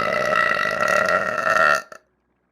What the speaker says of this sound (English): I actually have to burp anyways.